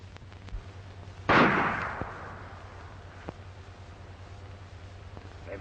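A single distant gunshot cracks and rolls away in a long echoing decay over a steady low hum, followed by a few faint ticks and pops.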